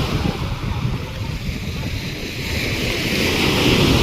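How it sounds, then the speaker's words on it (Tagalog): Strong ocean waves crash and surge continuously at sunset, loud and close, with wind buffeting the microphone throughout and no talk. "Lakas ng alon guys"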